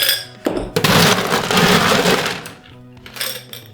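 Cocktail shaker packed with ice being shaken hard to mix a piña colada made with cream, a dense rattling wash of ice against metal that runs for a few seconds before easing off.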